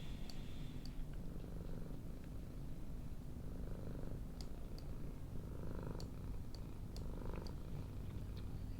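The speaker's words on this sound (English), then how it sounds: "My cat has come to purr at the microphone." A pet cat purrs close to a microphone, a steady low rumble running unbroken throughout with faint clicks and rustles over it.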